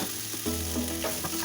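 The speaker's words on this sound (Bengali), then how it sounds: "ভাজা ভাজা ভালো করে করছি আমি" Spiced jackfruit and prawn masala is stir-fried in a pan, giving a dense, steady sizzle throughout with faint scraping from the stirring. The clip is brief, and no one speaks.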